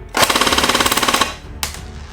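Snow Wolf Steyr AUG airsoft rifle firing a rapid full-auto burst of about a second at roughly eighteen rounds per second, close and loud, followed by a short single follow-up shot.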